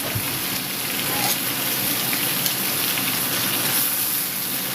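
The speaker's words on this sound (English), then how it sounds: "Cooking nice and hot. I can hear it popping." Chicken pieces sizzle and pop in a hot pan for the whole stretch, a loud, dense, steady crackle with scattered sharper pops.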